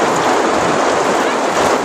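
Heavy rain pours down steadily and loudly, a dense continuous wash of drops beating on surfaces nearby with no voices over it.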